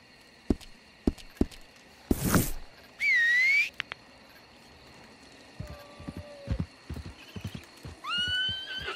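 A shire horse in Red Dead Redemption 2 gives a loud whinny amid scattered clip-clop hoofbeats, with short whistle-like tones and a second rising neigh near the end, no talking.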